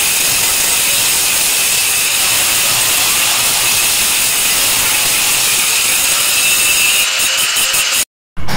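An angle grinder fitted with a number 0 polishing disc works a marble moulding, giving a loud, steady abrasive hiss and whine that runs unbroken before cutting out briefly near the end.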